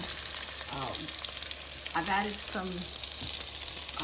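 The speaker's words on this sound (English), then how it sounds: "we're going to let this finish cooking and searing on the other side, the skin side" Salmon fillet searing skin side down in a hot pan, a steady bright sizzle running throughout, with a few brief voiced sounds rising over the frying hiss.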